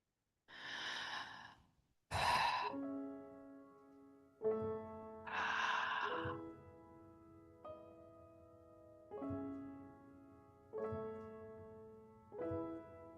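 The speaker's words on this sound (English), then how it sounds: "I'm going to encourage you to keep going with this breath." Slow, calm breathwork breaths, each a long airy inhale or sigh-like exhale, recur about every two seconds and sit over soft sustained musical tones, close and steady with no talking.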